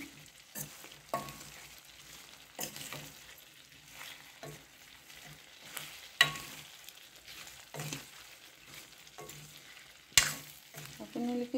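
Sun-dried mango pieces for pickle being mixed with spices in a bowl, with soft intermittent scraping and stirring strokes at close range and brief sharper clinks, and no voice over it.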